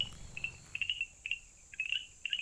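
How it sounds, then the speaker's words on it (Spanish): Male frogs from Uruguay call in short, high, trilling chirps, repeated in quick bursts of about half a dozen over a quiet background, fairly close and clear. "Para atraer a las hembras, los machos croan, hinchando su saco vocal"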